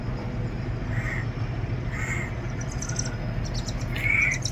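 Crows cawing among old temple ruins in Ayutthaya, Thailand, several separate calls spaced about a second apart, moderately distant, over a steady outdoor hum of insects and ambient noise.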